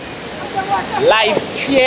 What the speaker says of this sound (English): This is the Livière River.